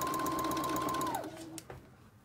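A domestic sewing machine runs unthreaded, its motor whirring in rapid, even stitching pulses close by before winding down and stopping with a couple of clicks.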